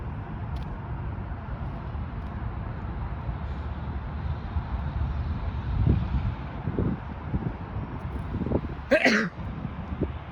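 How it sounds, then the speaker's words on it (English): A short, partial sneeze bursts out near the end over steady wind-like vehicle rumble, preceded by a few faint breaths, while walking in Claireville neighbourhood, North Etobicoke, Toronto. "Okay, that was just a partial sneeze"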